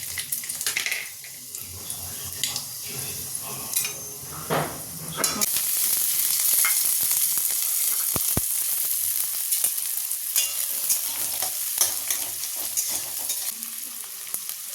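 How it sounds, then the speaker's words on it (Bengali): Dried red chillies sizzle in hot oil in a wok, a loud, steady frying hiss that swells and holds throughout, with occasional stirring clatter and no talk. "কড়াই তেল গরম হয়ে গেছে, এবার দিয়ে দেবো শুকনো লঙ্কা।"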